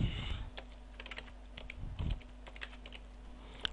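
Fingers type on a computer keyboard, tapping out a short run of soft, quick key clicks with a faint low hum in the background.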